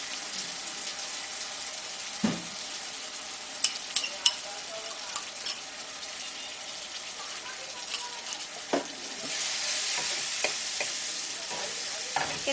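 Ginger-garlic paste mixed with spices fries in a pan for Bengali-style chicken dopiaza, with a low sizzle, sharp clinks of a spoon stirring and scraping, and a brighter hiss swelling near the end as a little water goes in.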